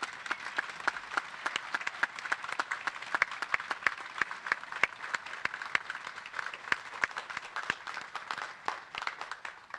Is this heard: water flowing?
no